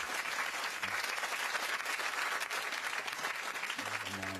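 Audience applause rings out steadily for a few seconds at a comedy show, a dense wash of many hands clapping at once, fairly faint and distant with no talking over it.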